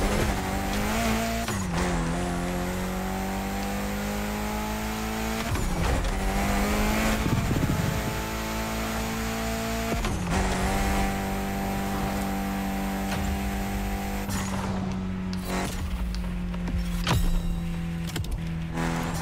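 A small car driving and racing in The Crew Motorfest, its engine holding a steady drone, revving up through gear changes with rising pitch sweeps, tire squeal and skids toward the end, loud and continuous with no talk.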